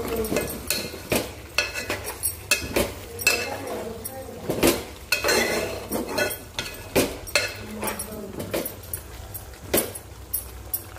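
Spoon stirring food in a pot just uncovered and steaming, giving repeated clinks and scrapes of metal on cookware at close range, with no talking.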